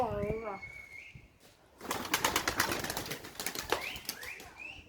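Pigeons flutter and flap their wings in flight, a loud burst of rustling wingbeats near the microphone. It begins after a faint coo-like call and some quiet, and people talk in Turkish around it.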